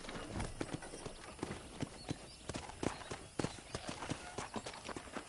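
Horse hooves in a Red Dead western ranch setting clip-clop at a steady walking rhythm, close and fairly quiet, repeating evenly over a soft background.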